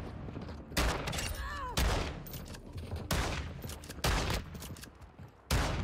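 Loud shotgun blasts from Call of Duty Modern Warfare II Hardpoint multiplayer, five or six heavy booming shots spaced roughly a second apart over busy game noise, with a brief whistling tone between early shots.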